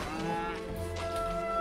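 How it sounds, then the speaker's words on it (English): Cows moo in the video game Genshin Impact: one long, close, droning low moo that holds steady throughout, with no talk over it. "Throwing cows everywhere."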